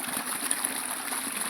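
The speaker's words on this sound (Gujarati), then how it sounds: "આ નેપિયર ઘાસમાં પાણી વાળ્યું" Irrigation water flows steadily into a field of Napier grass on a farm, a continuous near trickling and streaming wash with no voices.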